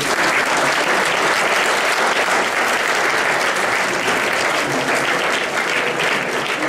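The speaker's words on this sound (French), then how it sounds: "Donc je vous demanderai des applaudissements." Sustained, dense applause from a large audience at the final of a public-speaking competition, loud and steady throughout with no break.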